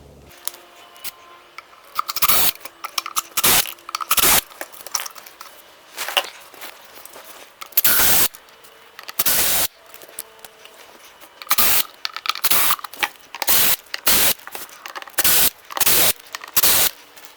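Screws are backed out of a Roland Micro Cube amplifier in a series of short, close, scratchy bursts of driver turning, separated by quiet pauses and irregular in rhythm.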